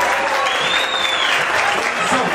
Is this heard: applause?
yes